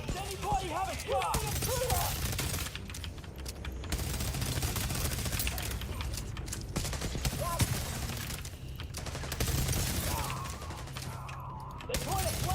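Gunfire in the mobile shooter The Division Resurgence, continuous rattling bursts of automatic fire with short pauses, mixed with voices calling out over the shooting.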